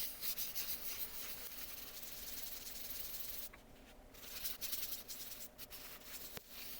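Abrasive paste being buffed onto a spinning wood-turning project on a lathe, a soft continuous rubbing and hissing friction sound, fairly quiet, with brief pauses where contact eases.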